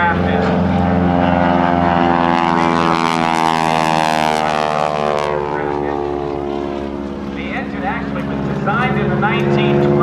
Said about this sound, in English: The 450 horsepower engine on this aircraft is